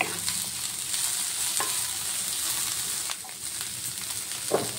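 Cabbage frying in a pan for egg fried rice gives a steady, close sizzle, with a few sharp clinks and scrapes of a spatula stirring through it, and no voices.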